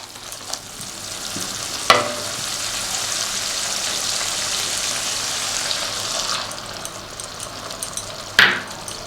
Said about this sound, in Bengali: কষা হয়ে গেছে এবার জলটা আমি দিয়ে দেব